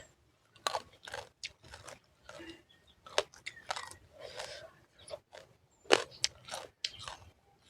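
Crispy fried mackerel being eaten up close: a series of sharp, crackly bites and crunchy chewing come in irregular bursts with short quiet gaps between them.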